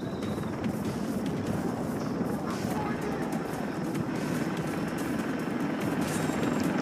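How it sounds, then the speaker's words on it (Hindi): Helicopter in the video game Far Cry 3: a steady, loud rotor and engine drone fills the whole stretch, with other game sounds mixed in and no talk. "और फ्रेंड्स यहाँ हेलीकॉप्टर भी आ चुका है।"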